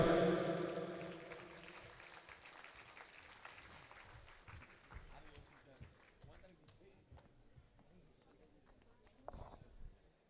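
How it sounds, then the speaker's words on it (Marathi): Crowd applause at a prize-distribution ceremony rings out at first, then fades to scattered clapping and shuffling, with another short burst near the end. "जोरदार जोरदार टाळ्या झाल्या पाहिजेत."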